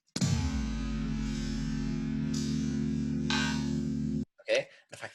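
A field recording stretched out to an extreme with warp markers, turning it into a long smeared drone with a steady low hum and washy upper texture that cuts off abruptly, followed by short garbled fragments.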